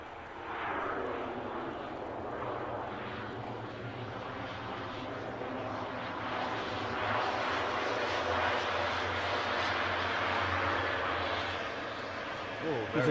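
An airplane landing and rolling out on the runway at Edinburgh Airport on an icy day, giving a steady, broad engine roar and rush that holds evenly throughout, with voices talking over it.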